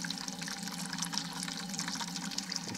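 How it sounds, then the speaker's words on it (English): Cold water mist condensing steam in a garage and running down into a bucket, giving a steady, close hiss and trickle of flowing water with no pauses or voices. "It blows a mist of cold water, collects all that, and it runs down into here."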